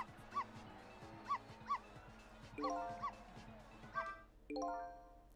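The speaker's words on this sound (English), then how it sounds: "Should I keep barking?" Cartoonish dog barks from the video game Ghost Trick: Phantom Detective come in short, separate yips at a steady pace, followed by bright chiming musical tones near the end.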